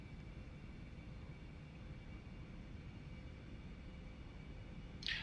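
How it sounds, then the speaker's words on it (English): Eclipse 550 jet engines in the X-Plane 11 flight simulator give a steady, low, broadband roar with a faint whine on top, unchanging throughout and heard alone until a brief hiss near the end. "Should be able to hear the engines now."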